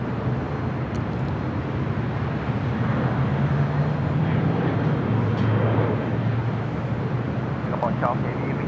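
A Singapore Airlines Boeing 777-300ER lands at LAX, arriving from Tokyo Narita, with a continuous loud jet roar that holds steady throughout. Faint voices can be heard beneath it.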